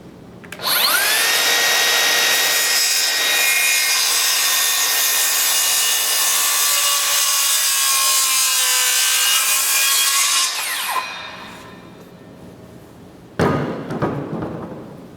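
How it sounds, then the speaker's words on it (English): A circular saw set to cut one inch deep runs loud and steady for about ten seconds, then winds down, followed by a short sharp knock near the end. "I'm going to make my initial cut here with the circular saw"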